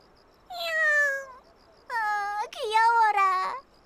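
A cat meows three times up close, long drawn-out cries, the last two rising and wavering, with quiet room tone between them.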